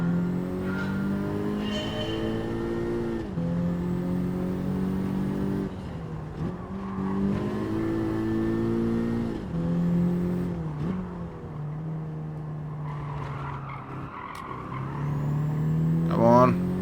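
A Honda Type R in Gran Turismo 7 drives a test run, its engine note climbing and dropping through gear changes with brief tire squeals, while a person talks over the game sound.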